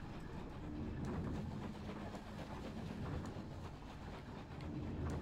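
A train rumbling past in the Night in the Woods video game, a low, heavy continuous roar with faint rhythmic clatter, steady throughout and fairly quiet.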